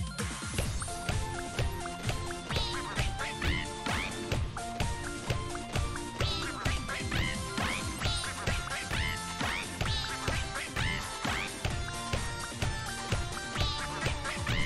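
Quacking ducks in the rhythm game Rhythm Heaven Megamix, sounding as repeated quacks set to a steady beat over continuous bright game music, loud and close throughout.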